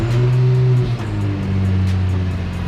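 Three-piece car wheels spin for polishing with a loud, steady motor drone whose pitch drops slightly partway through, over a faint rhythmic ticking.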